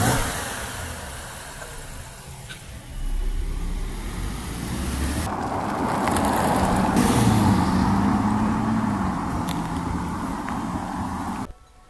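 A 2018 Audi Q7 3.0T Prestige gets under way and accelerates, a steady engine drone and road rush from inside the cabin that swells as speed builds, then cuts off abruptly.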